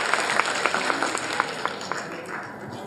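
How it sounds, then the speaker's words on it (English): An audience claps steadily at a school annual report ceremony, a sustained round of applause filling the hall and easing off toward the end. "he deserves a huge round of applause"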